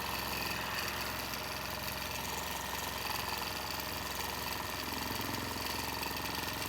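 A sewing machine stitches a quilt block in a steady, fast mechanical whir with a continuous motor hum, running unbroken and fairly close for the whole stretch.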